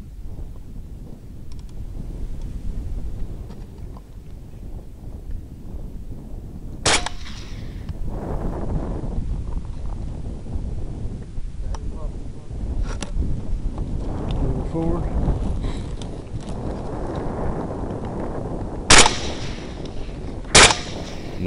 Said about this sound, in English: Not enough lead on those shots.